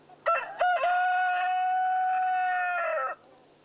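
A rooster on a cold autumn farm crows one long, loud cock-a-doodle-doo lasting about three seconds, preceded by short clucks from nearby hens, with a quiet barnyard before and after.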